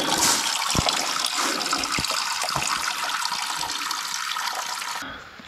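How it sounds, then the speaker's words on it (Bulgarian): Tap water runs steadily at a mountain shelter, a continuous broadband hiss and splash close by with a few small knocks, stopping abruptly near the end. "Значи има вода."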